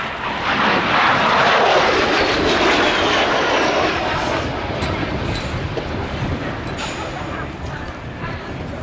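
A historic jet aircraft, owned by the Norwegian Air Force Historical Squadron, passes at the Duxford air show, its engine roar swelling loud early on, then easing into a steady, more distant drone.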